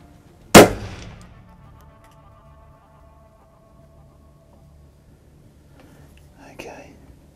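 A single loud, sharp rifle shot fired at a whitetail deer on a Texas hunt rings out close by and decays over about half a second, followed by near silence and a faint whisper.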